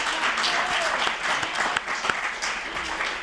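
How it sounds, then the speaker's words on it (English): An audience at an anniversary celebration gives a round of applause, dense steady clapping from many hands, fairly close and sustained throughout. "A round of applause for Matthew, who couldn't join us."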